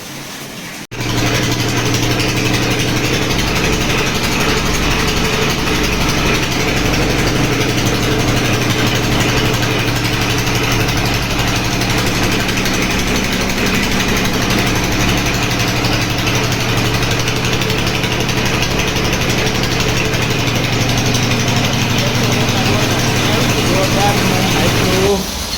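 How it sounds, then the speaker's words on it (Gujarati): A motor engine runs steadily to pump water from a well, a loud continuous idling drone with a low hum and even tone that holds unchanged from start to finish after a brief quiet opening. "અત્યારે મોટર ચાલુ છે"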